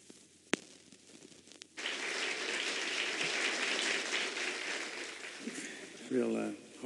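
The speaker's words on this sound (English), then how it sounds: "Real heartwarming round of applause" An audience at a comedy show breaks into applause that starts suddenly after a lone sharp clap, holds as a dense sustained roar and fades as a voice begins speaking near the end.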